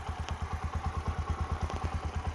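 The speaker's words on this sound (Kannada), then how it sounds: "ಯಾರೋ ಬೈಕಲ್ಲಿ ಹೋಗ್ತಾ ಇದ್ದಾರೆ." A motorcycle engine thumps nearby in a fast, even pulse, a steady chugging beat with some mechanical clatter on top and no voices.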